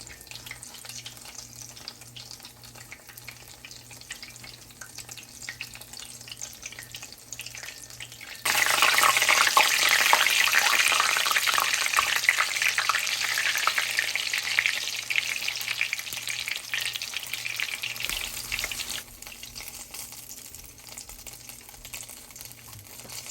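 Breaded rattlesnake bites dropped into hot oil, the frying surging abruptly into a loud, bright, crackling sizzle that holds steady for about ten seconds before easing back to a quieter bubbling hiss.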